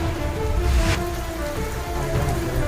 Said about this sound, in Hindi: गुजरात के कई जिलों में तेज बारिश।